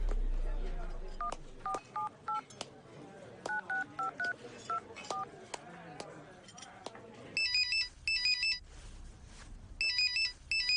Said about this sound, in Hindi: एक फोन करके आता हूँ